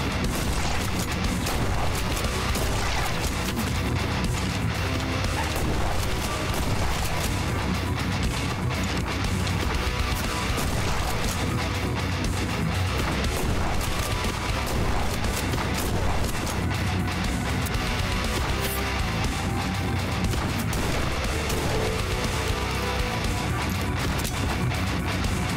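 Repeated heavy shotgun blasts and booming impacts from the Forgive Me Father 2 shooter game, loud and dense with no pauses, mixed with game noise and explosions throughout.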